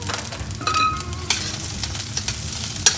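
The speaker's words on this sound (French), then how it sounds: "On va faire mousser le beurre." Butter foams and sizzles in a pan where chicken wings have browned, a close crackling fry with brief stirring scrapes and small clinks over the short stretch.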